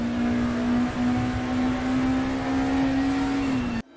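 BMW and Mercedes '92 race cars at Bathurst in a racing sim game: a loud, steady engine drone holds at one pitch for several seconds, then cuts off abruptly.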